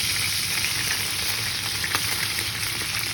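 Chips frying in the same pan just used for chuck steak burgers, a steady loud sizzle and crackle close by with a few brief stirring clicks, no voices.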